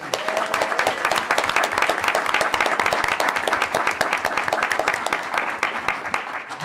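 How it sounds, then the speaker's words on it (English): At a school board meeting, an audience gives an honoree a sustained, even round of applause, many hands clapping densely and steadily at moderate loudness throughout, with no break or fade. "Huge, huge round of applause for Roland Anzaldúa"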